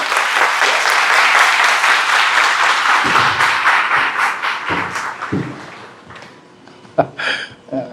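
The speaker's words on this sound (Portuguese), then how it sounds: "vamos dar uma salva de palmas para ela" A church congregation claps steadily in sustained applause that thins out toward the end, leaving a few scattered claps and taps.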